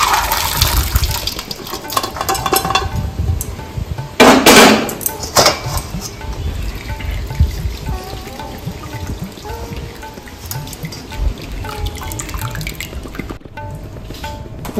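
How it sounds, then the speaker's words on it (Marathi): Cooked dal poured into a strainer for Maharashtrian puran poli gives a steady splashing, dripping wash of liquid, with a louder gush near the start and trickling afterward. "चाळणीत ओतूया"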